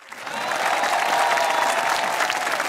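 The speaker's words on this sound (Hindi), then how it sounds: "तो जिन जिनके साथ हो चुका है वो तालियां बजाएं।" Audience applause at a comedy show with army soldiers in Rawalakot, a dense steady clapping that swells in within half a second and stays loud and even throughout, with a light crowd murmur underneath.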